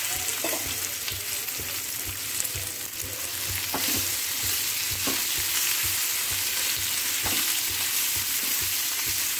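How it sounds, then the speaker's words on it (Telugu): Okra pieces fry in oil tempered with seeds and asafoetida, a strong continuous sizzle close up with repeated clacks and scrapes of stirring, no voices over it. "అయిన తర్వాత ఈ బెండకాయ ముక్కలు వేసుకోవాలి।"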